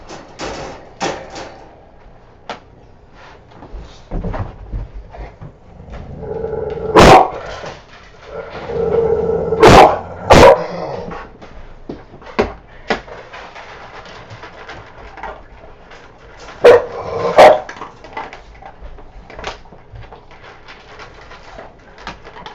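Dogs bark in a few loud, close bursts spread across a quiet indoor stretch, with smaller knocks and shuffles between and no talking.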